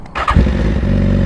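A BMW S1000RR sport motorcycle engine, which debuted in 2009, fires up close by with a sharp burst and then settles into a loud, steady idle rumble.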